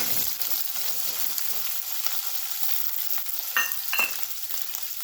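Paneer frying in oil in a pan, a constant crackling hiss with a couple of brief scraping touches near the end, nearby and without voices.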